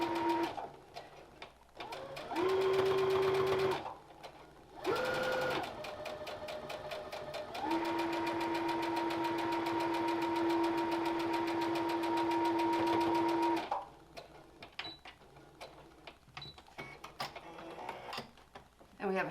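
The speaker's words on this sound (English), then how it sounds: "we'll take it back to the sewing machine and we're going to top stitch up at the top" A sewing machine top stitching the curved edge of a fitted fabric mask runs in steady whirring bursts of rapid stitching with short pauses between them, loud and close, with a voice talking around it.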